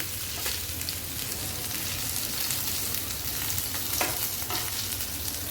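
Chicken pieces coated in spice mix fry in hot oil in a pan, giving a steady, close crackling sizzle with occasional louder pops and no talk over it.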